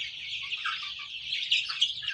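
Sonali desi chickens on a Bengali poultry farm cluck and chirp in a soft overlapping chorus, several birds close by with a couple of sharper calls near the end, no talking.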